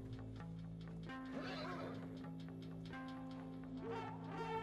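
A horse in the video game ARK whinnies repeatedly in drawn-out, wavering neighs that rise and fall over a faint game background, fairly quiet and with no talking.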